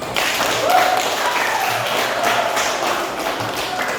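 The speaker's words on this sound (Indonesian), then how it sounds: "Oke, tepuk tangan buat semuanya." A classroom full of people claps steadily, a dense patter of hands at moderate loudness lasting throughout, with faint voices mixed in.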